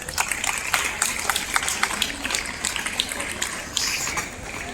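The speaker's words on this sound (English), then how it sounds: "So I welcome them with a big round of applause." Applause from the audience at a school investiture ceremony, welcoming newly elected student council members: a steady, dense patter of many hands clapping, moderately loud, that carries on for the whole stretch without pausing.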